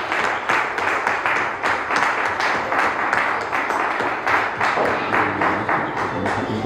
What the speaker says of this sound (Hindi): आइए तालियां नाल यीशु के लिए हम अपना वेलकम करें।